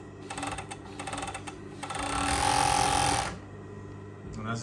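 A Pegasus M952-17-4 high-speed 3-thread overlock sewing machine runs in short buzzing bursts, then in a longer sustained whir that rises and fades, fairly close and moderately loud.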